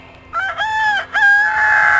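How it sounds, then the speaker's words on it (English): Homestead rooster crowing once up close in the coop, a loud drawn-out call rising and breaking before a held final note. "That's one of our roosters."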